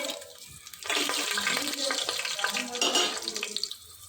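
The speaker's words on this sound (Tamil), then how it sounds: "இப்போ வந்து தாளி போட்டுக்கலாம் ஏலக்காய் ஒன்று பட்டை ஒரு துண்டு கல்பாசி கிராம்பு பிரிஞ்சி இலை இது போட்டுடலாம்" Cardamom, cinnamon, cloves and bay leaf hit hot oil for a chicken biryani with seeragha samba rice and small onions, bursting into a loud, steady sizzle that swells after a quiet start and eases off near the end.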